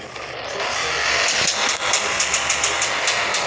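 Exhaust of a Chevrolet Camaro, a loud broadband roar with a steady low rumble and faint rhythmic pulses, heard up close, with no talk over it.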